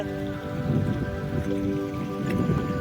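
Steady rain pours down in a dense, even hiss, with a faint low rumble underneath throughout.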